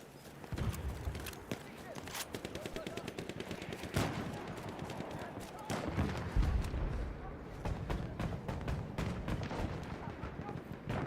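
Gunfire in a Battlefield game, rapid bursts of automatic fire and scattered single shots over a rumbling battlefield backdrop, moderately loud and continuous across the whole stretch.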